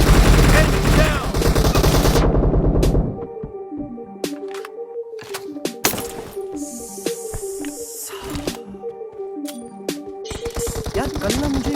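Video game gunfire: rapid bursts of automatic shots and sharp single cracks, loud at first and then sparser, mixed with game sound effects and musical tones.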